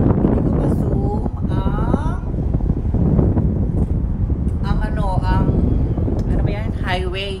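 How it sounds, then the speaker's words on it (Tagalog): Strong wind buffets the microphone at a mountaintop viewpoint above a highway, a steady roaring rumble throughout, with someone talking excitedly over it. "Ang lakas ng hangin, nakakaloka."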